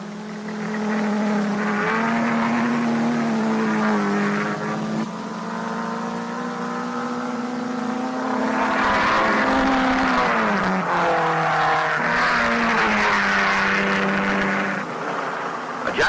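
Vintage sports racing cars, including MGs and a Jaguar, roar around the hairpin at Watkins Glen, a sustained loud engine drone rising and falling in pitch as a pack passes, with no talking.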